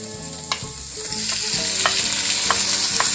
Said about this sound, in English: we will be stirring these around until the garlic becomes brown and the onions become transparent